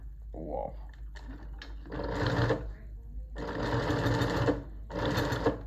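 A Juki or Consew industrial sewing machine stitches in several short, rapid bursts separated by pauses, close and fairly loud, with faint talk in the background.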